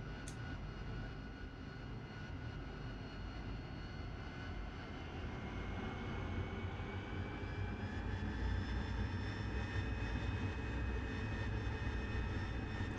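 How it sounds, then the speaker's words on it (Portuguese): In the DCS flight simulator, an AV-8B Harrier's jet engine whines steadily at takeoff, a continuous roar with rising tonal whistles that slowly build in pitch and loudness, with no voices. "Deixa eu decolar rapidinho aqui."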